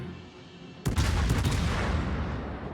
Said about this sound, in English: Now he's going to shoot us, of course.